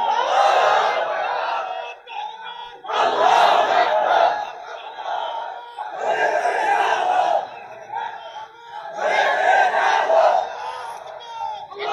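A large crowd at a religious gathering shouts takbir in unison, four loud, swelling chants with brief pauses between them, rising and falling in a steady call-and-response rhythm.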